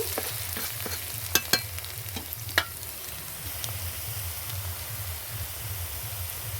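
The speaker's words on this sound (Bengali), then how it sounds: "আলু ভাজা বসিয়ে দিয়েছি, আলু ভাজাটা করে নিব।" Potatoes fry in a pan with a steady, soft sizzle throughout, punctuated by a few sharp clicks of a spatula stirring early on; no voices.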